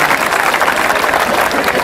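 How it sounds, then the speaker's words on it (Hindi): A crowd at a Hindi comic poetry show bursts into loud, sustained applause, a dense, even roar of clapping that stays strong for the whole short stretch with no talking. "एक बार जोरदार तालियां बजाएं"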